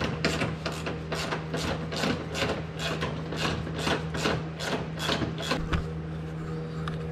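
Bolts being worked out of a plastic housing cover on a John Deere Gator TS utility vehicle, a steady run of close, rhythmic ratcheting clicks over a low constant hum, with no talk.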